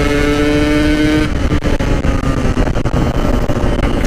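A Yamaha RX King two-stroke motorcycle engine revs hard and close, holding a steady high-pitched buzz before breaking into choppy, crackling throttle blips with no talk.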